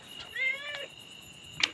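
A cat meows twice in quick succession close by, a drawn-out cry followed by a sharper, higher call in a quiet room.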